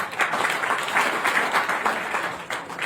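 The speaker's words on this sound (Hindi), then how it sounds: "तालियां होनी चाहिए सबके लिए।" Brief burst of audience applause in a lecture hall after a participant's answer, many hands clapping with slightly uneven rhythm, moderately loud and without talk.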